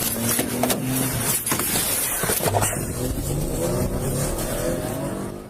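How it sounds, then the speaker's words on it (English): A black Ford SUV with no license plates speeds away from a police stop, its engine revving hard and roaring continuously, loud and close with some road and wind noise. "Police stopped a black Ford SUV without license plates, but the driver suddenly sped off."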